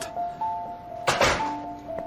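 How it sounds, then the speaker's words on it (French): A door is shut indoors, with a single solid thunk near the middle of the clip over a faint steady hum. "Ferme la porte."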